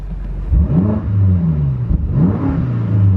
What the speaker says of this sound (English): let's turn it off and give it a rev